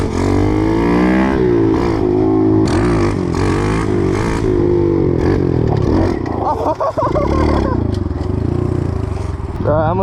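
A 2021 Kawasaki KLX 110 pit bike engine revs hard and steady through a wheelie, loud and close, with some clatter toward the end.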